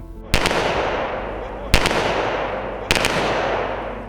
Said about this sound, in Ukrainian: пролунали постріли в небо почесної військової варти